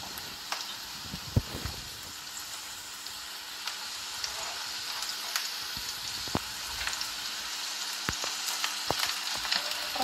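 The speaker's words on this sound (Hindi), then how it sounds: "और इसमें हम अब ऐड कर देंगे अपने अनियंस," Chopped onions fry in a pan with a steady, bright sizzle and crackle. Occasional spoon stirs and taps cut through, and no one speaks.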